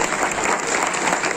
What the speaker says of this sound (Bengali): তাদের জন্য জোর করে হাততালি